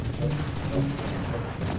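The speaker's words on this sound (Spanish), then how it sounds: "ahí ya se están explotando muchos" Many explosive barrels detonating in quick succession in Halo 5 make a dense, continuous roar of overlapping blasts and rattling crackle, loud and sustained throughout.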